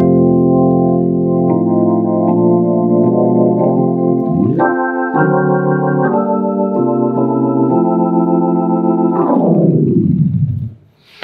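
Jazz organ voice on a Yamaha P-525 digital piano with tremolo switched on by the left pedal: loud, held organ chords that move up through several changes, then fade out at the end.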